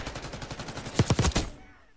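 Automatic gunfire in Call of Duty Black Ops 6 cracks out as a quick burst of about five sharp, loud shots at the end of a steady rattle, then cuts to near silence.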